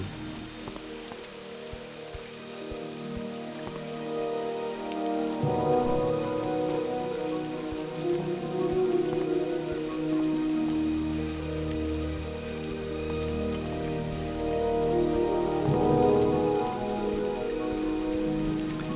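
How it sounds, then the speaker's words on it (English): Steady rain patters throughout in World of Warcraft, with layered tonal background music and occasional soft thuds, no voices. "And wonderful that it's raining too."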